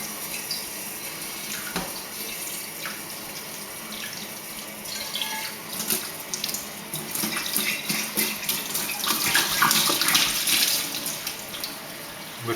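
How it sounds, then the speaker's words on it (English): Tap water runs steadily into a sink while something is rinsed after foaming, a close, continuous splashing flow that grows louder and more turbulent toward the end. "Let's just give it a rinse off."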